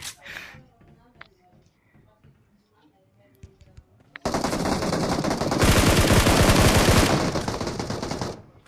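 Gunfire in PUBG: a voice talks quietly over sparse faint game sounds, then a loud, sustained burst of automatic fire breaks in and continues for several seconds.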